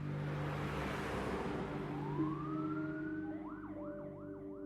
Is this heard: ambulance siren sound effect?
yes